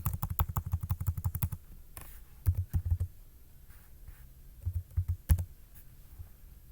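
Rapid keystrokes on a computer keyboard while writing HTML link tags, a fast run of clicks followed by scattered short bursts of typing, close and clear with no talking.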